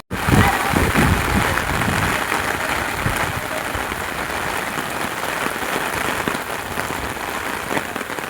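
Heavy rain pours steadily on the Dhaka highway near Bera in Pabna during a storm, with vehicles queued in the downpour; a dense, even hiss continues loud and unbroken throughout.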